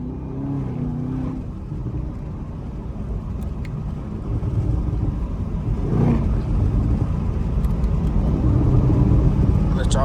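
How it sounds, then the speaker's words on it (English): A Chevrolet Camaro ZL1 1LE exhaust rumbles low and builds in loudness over several seconds, with someone talking over it from inside the car. "Let y'all hear this damn exhaust."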